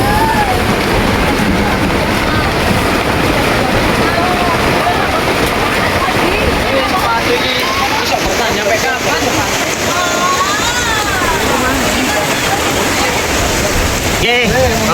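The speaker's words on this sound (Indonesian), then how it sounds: "Suasana hujan di pos 4." Steady broadband rain hiss at a mountain hiking rest post on the Gunung Bekel trail, a continuous wash of drops with occasional louder patches, voices talking faintly underneath throughout.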